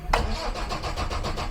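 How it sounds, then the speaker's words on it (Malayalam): An Ambassador car, started after months of standing, cranks on a cold start: a quick starter whine, then a steady rhythmic churning of the engine turning over, close and moderately loud. "വണ്ടി സ്റ്റാർട്ടാവുന്നില്ലല്ലോ"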